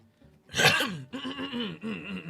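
A single harsh throat-clearing cough bursts out, followed by a couple of rough, voiced throat-clearing grunts and hums, close and fairly loud with no speech.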